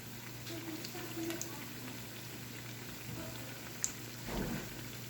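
Plantain flower vadas frying in hot oil, a steady bubbling sizzle with a brief clatter near the end as the patties are flipped, heard close without talk.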